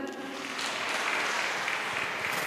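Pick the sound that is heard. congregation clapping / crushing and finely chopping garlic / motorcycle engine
congregation clapping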